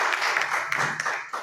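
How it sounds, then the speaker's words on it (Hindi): Audience applause at a police honour ceremony held on a Hindi comedy stage, a dense, steady wash of clapping that fills the whole short stretch without a break. "एक बार रसिक सर के लिए जोरदार ताली होनी चाहिए"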